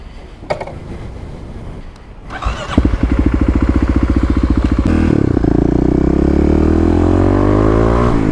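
A Kawasaki KLX351 dirt bike fires up after a few clicks and clunks, then settles into a loud, close, rapid thumping idle that builds into a steady rev.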